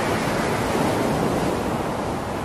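Surf rolls onto Santolo beach in Garut, a steady broad wash of waves mixed with wind rumble on the microphone, continuous and fairly loud.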